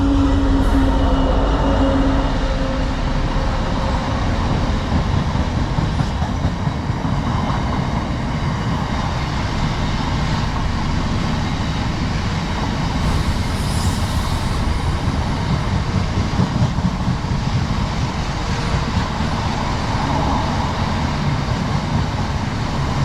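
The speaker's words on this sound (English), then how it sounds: "Here comes a train." Class 66 freight locomotive 66717 passing slowly through Alfreton railway station, a loud, sustained rumble of engine and rolling wagons that continues throughout, with steady wheel noise and no voices.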